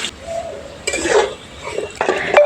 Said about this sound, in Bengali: আলুগুলোকে আমি নাড়াচাড়া করে লাল করে ভেজে নিব